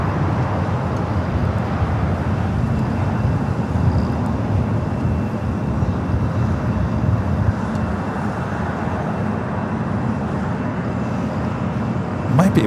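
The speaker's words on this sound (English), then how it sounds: "Lufthansa Flight 456 coming in from Frankfurt, the 747-8 Intercontinental" A Lufthansa Boeing 747-8 Intercontinental arriving at LAX from Frankfurt produces a continuous low roaring rumble that holds steady throughout, with a faint voice talking over it.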